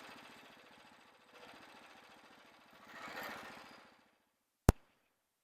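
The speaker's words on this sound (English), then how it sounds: "As you can hear, my engine is running." Engine of a portable Frontier sawmill running at a steady low idle, faint and somewhat distant, rising slightly before cutting off, followed by a single sharp knock.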